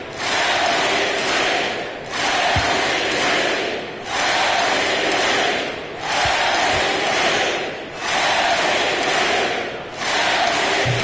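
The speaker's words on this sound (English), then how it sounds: "Great to hear the crowd showing their appreciation." A basketball arena crowd in the video game NBA 2K22 roars and cheers in loud swelling waves, each surge rising and falling roughly every two seconds, with occasional soft thuds beneath.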